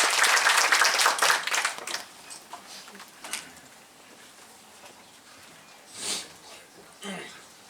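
An audience at a talk by a professional baseball player on sabermetrics breaks into loud applause that lasts about two seconds, then dies away into scattered claps and room noise.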